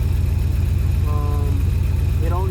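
A 600 hp Scat Pack car engine idles just after being started, a steady, close, low rumbling pulse with faint voices briefly audible over it.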